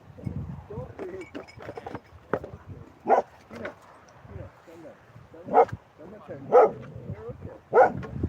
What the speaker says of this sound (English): Oh, somebody's dog's invaded.